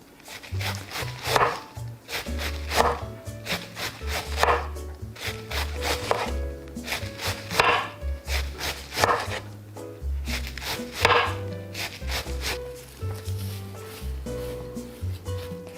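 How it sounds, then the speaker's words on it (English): A knife shredding cabbage for sauerkraut, making close, rhythmic chopping and scraping strokes in bursts with short pauses between runs. "As I'm shredding the cabbage, I place it in a bowl."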